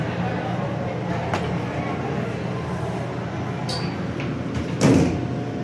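An Otis elevator door at Lenox Square Mall in Atlanta, Georgia, slides shut with a short thud near the end, over a steady hum of mall background noise.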